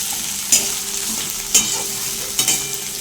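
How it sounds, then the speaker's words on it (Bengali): Onion with garlic frying in hot oil for a spicy Bengali pabda fish curry, a steady close sizzle with three sharp scrapes of a spoon stirring through the pan, about one each second. "পেঁয়াজটা দিয়ে ভালো করে একটু মিক্স আপ করে"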